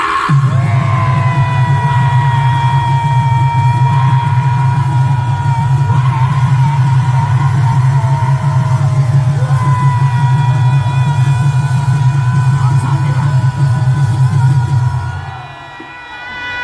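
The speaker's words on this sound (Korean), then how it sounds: "한 번 더 이원석 검찰총장을 향하여 함성 발사" A large rally crowd outside the Supreme Prosecutors' Office in Seoul lets out a long, loud, sustained roar of shouting aimed at the prosecutor general, holding steady for about fifteen seconds before dropping off abruptly.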